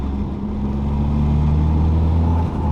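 Nissan S13 Silvia driving in third gear with a worn driveshaft centre bearing, giving a steady low drone with faint tonal hum over continuous road and engine noise, close and even throughout.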